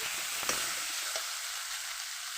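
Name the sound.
frying with coriander and turmeric powder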